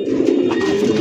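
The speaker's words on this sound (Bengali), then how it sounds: "কালার দেখেন একদম লাইট কালার মধ্যে একজন বোম্বাই কবুতর" A light-coloured, crested Bombay pigeon gives one close, loud, sustained coo that runs about a second before cutting off.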